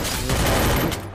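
A short, loud burst of rapid automatic gunfire from a mobile shooter video game, densely packed shots rattling for about a second before cutting off.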